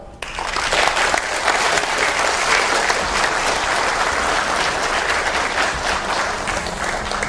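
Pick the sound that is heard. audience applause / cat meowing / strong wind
audience applause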